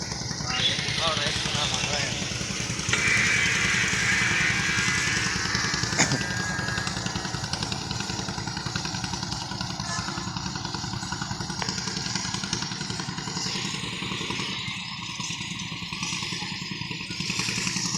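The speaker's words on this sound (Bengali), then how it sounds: "ওই যে একটা নৌকা চলে যেতেছে আর কি, বালুগুলো নিয়ে" An engine boat carrying sand chugs along the river beside Sarishabari railway station in Jamalpur, a steady low throbbing engine drone that continues the whole time beneath someone talking.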